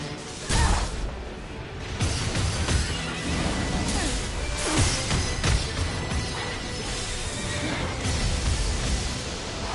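Horses neigh and whinny repeatedly in the video game Stranger of Paradise, their calls mixed with clip-clop, crashes and whooshing combat effects, loud and busy throughout.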